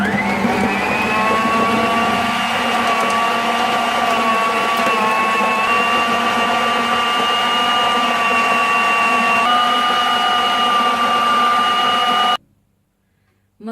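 A hand blender whirs steadily while beating butter for a tea cake batter, a loud continuous motor whine holding nearly level pitch for about twelve seconds before cutting off abruptly into quiet.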